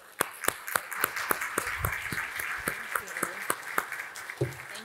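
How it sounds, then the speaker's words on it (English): An audience at a public-lands talk welcomes the speaker to the stage with clapping: sharp individual claps and scattered applause, fairly close, over a light room murmur and faint talk. "Let's give her a round of applause."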